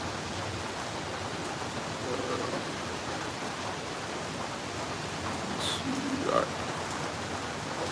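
Rain falling steadily outdoors in Australia, a dense even hiss of drops that fills the background throughout, with a few faint croaks and chirps near the end and no talk.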